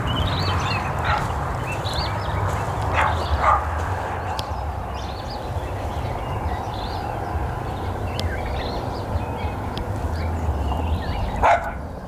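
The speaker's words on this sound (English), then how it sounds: "dogs to greet me. Check this massive Great Dane." A massive Great Dane gives a few deep barks and yips at a rugged roadside stay, heard fairly close over a constant low rumble of wind or engine noise.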